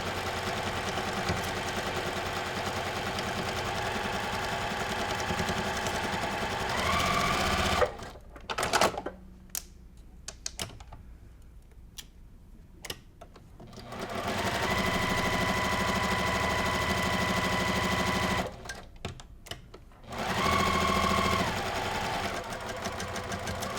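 A sewing machine stitches quilt block seams for a 1930s-style block in loud, fast bursts, stopping twice for pauses with small clicks and handling noises before starting up again.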